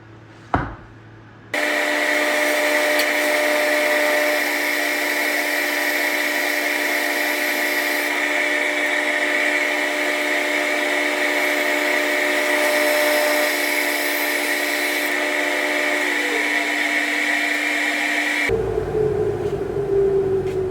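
A saw cuts through wooden stock to open an entry path for a stretcher tail into a socket: a steady, loud droning cut holds unbroken for about seventeen seconds after a brief knock, then stops abruptly.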